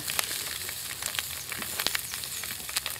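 Sausages frying in a pan outdoors for sausage sandwiches, a steady close sizzle with scattered crackles and pops, and no voices.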